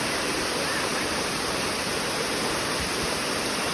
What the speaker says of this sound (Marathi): खूप सुंदर वॉटरफॉल आहे